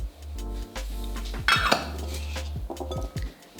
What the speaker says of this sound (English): we are going to mix this all together until the sugar and the cardamom powder is well combined with the yogurt